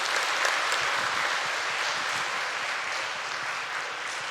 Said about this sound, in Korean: 한 번 더 크게 박수 쳐주세요.